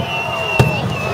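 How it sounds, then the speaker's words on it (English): A single New Year's firework burst pops sharply amid a steady background hum, with faint distant crackle and no clear voices. "Fireworks are going. Fireworks are going."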